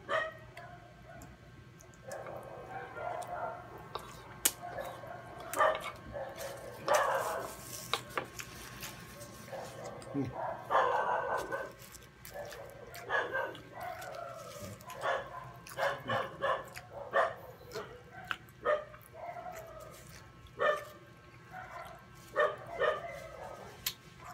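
Neighbours' dogs bark on and off in the distance while dinner of pizza and lemon pasta is prepared, faint scattered barks and clatter over a low hum, with occasional quiet talk.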